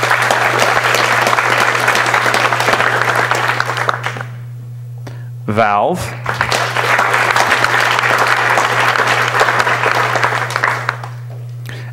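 Conference audience at the DebConf 14 closing ceremony applauding sponsors, two long stretches of loud hall-wide clapping broken by a short pause where a voice speaks briefly, with a steady hum underneath.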